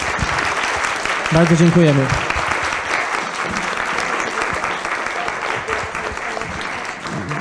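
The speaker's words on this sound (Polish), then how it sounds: "I teraz jest moment na brawa." An audience at the close of a Polish tech meeting gives sustained applause, a dense, steady wash of clapping throughout, with someone briefly speaking over it near the start.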